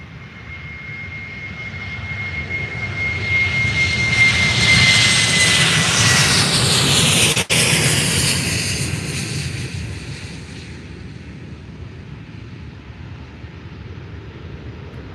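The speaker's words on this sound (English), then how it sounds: "ASL to Paris Charles de Gaulle. Taking off right now." An ASL airliner takes off at Faro Airport bound for Paris, its jet engines swelling into a loud, broad roar as it passes close by, then fading steadily into the distance, with no one talking.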